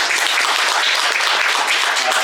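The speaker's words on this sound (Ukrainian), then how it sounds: "ваші оплески" Audience at a stand-up comedy club in Ukraine applauds with loud, dense, continuous clapping that holds steady throughout, with no gaps or voices.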